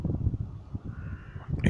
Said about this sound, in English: so if you hear lots of birds, that's why.